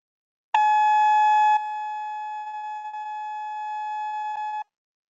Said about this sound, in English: This is 850 hertz.